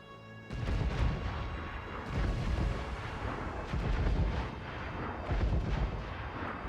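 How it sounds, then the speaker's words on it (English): Ship cannons fire in a naval battle in the video game Assassin's Creed Rogue, a dense run of loud, overlapping booms that roll on for several seconds with no talking. "You heard the Cannon ready!"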